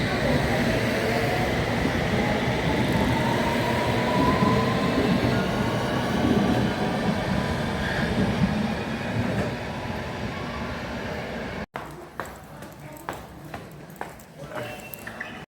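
A London Underground Tube train rumbles loudly along the rails for about eleven seconds, then cuts off abruptly, leaving quieter clattering and station noise.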